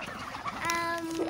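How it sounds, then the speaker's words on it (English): A goose calls once with a steady, honking, harmonic cry that holds for about half a second, close and fairly quiet over faint background noise. "that's Dave the Goose"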